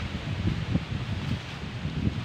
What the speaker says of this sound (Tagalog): Lakas ng hangin dito ngayon.